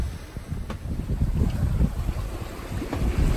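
Steady, loud wind buffets the microphone aboard the sailboat S/V SeaSprite on an inside passage around Cape Hatteras, with a rushing roar of water and waves beneath it and no voices.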